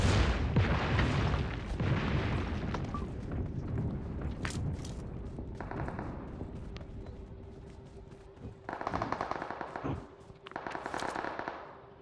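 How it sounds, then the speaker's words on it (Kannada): Bombs go off in a video game, with a string of booming blasts and crackling bursts, several sharp explosions clustering toward the end amid rumbling background noise. "ಇವಾಗ ಬಾಂಬ್ ಬೀಳುತ್ತೆ ನೋಡಿ ನಮ್ಮ ಮೇಲೆ ಇವಾಗ."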